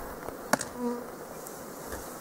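Faint buzzing of honey bees around hive boxes, low and steady in a quiet outdoor space, with a brief sharp click partway through.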